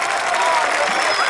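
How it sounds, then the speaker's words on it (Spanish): A crowd at the final of a Spanish-language freestyle rap battle event claps loudly and steadily in dense, continuous applause. "un aplauso por todos ustedes y por los cuatro mejores de la fecha"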